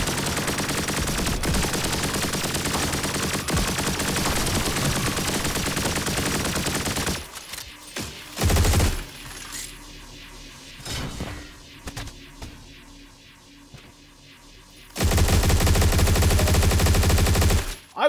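Heavy gunfire aimed at a mech in the video game Turbo Overkill, a loud continuous machine-gun stream for about seven seconds, then scattered thuds and crashes at lower level, then another loud sustained burst near the end.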